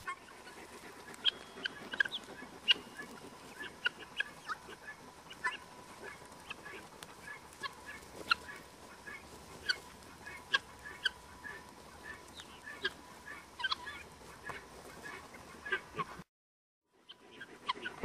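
A flock of guinea fowl keeps up a busy chorus of sharp, repeated calls and clucks in an open outdoor setting, moderately near and continuous, before cutting off abruptly near the end.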